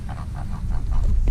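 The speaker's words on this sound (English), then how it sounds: "These geese are pretty. And they come right up to you." Geese at a lake give a quick series of soft, nasal honks, about six short calls over rumbling outdoor background noise.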